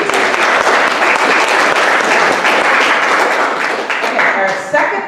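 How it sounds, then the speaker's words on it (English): A crowd at a year-end awards banquet gives a loud round of applause for the first award. The clapping is thick and continuous, then thins and fades in the last second. "Round of applause for this."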